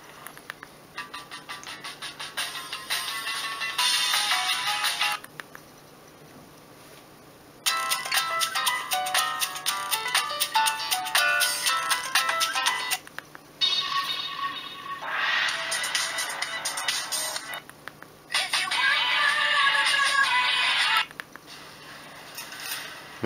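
Built-in ringtones from a Sony Ericsson J108i Cedar mobile phone play in turn through its small tinny speaker, bright electronic melodies of several seconds each with brief quiet breaks between them.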